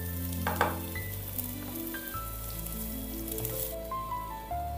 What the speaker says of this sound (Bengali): প্রথমে আমি বেগুনটাকে ভেজে নেব।